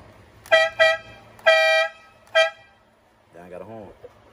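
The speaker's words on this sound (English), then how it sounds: "gold train horn, gold all good" Four loud train-style horn blasts, two short, one long, then another short, ring out near the microphone from a horn installed on a GBody Regal four-door car, followed by a brief burst of talking.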